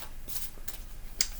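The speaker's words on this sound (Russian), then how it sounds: "пока я мешаю карты" Tarot cards being shuffled by hand during an air-element zodiac reading, giving a few soft papery riffling bursts close by over a faint steady background, with no voices.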